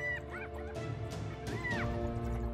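African wild dogs give a rapid series of high, bird-like twittering calls and yips over a low rumbling background, several chirps overlapping in quick bursts.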